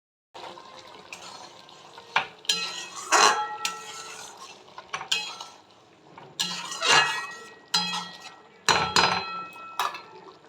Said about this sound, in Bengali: এবার আমি পনিরগুলো দিয়ে দেবো।